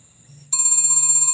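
A mobile phone rings loudly with an incoming call, a steady electronic ringtone starting abruptly partway through and holding on, close by, while people clean fish.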